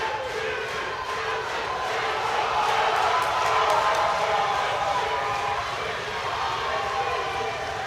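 Crowd at an IPF powerlifting world championship roaring and cheering for Brendan Pitre during a 365 kg attempt, a sustained wall of shouts and yells that swells in the middle, loud and reverberant in a large hall.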